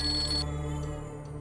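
A phone ringtone chimes briefly in a domestic drama scene, a bright tonal ring cutting off after half a second over a steady background hum.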